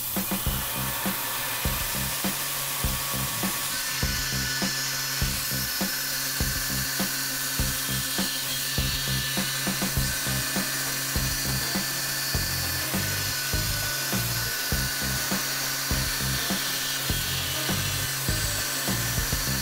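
CNC machine milling canvas micarta knife handles, a continuous high whining cut with steady rhythmic chatter from the spindle, loud and close, no talking.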